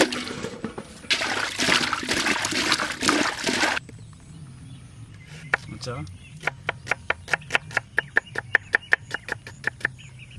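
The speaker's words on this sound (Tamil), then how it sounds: "தக்காளி நல்லா அலசிக்க போகிறோம்" Tomatoes rinsed by hand in water while cooking outdoors village-style: a few seconds of loud, continuous sloshing and splashing stop abruptly, followed by quieter handling noise and a quickening run of sharp, regular taps.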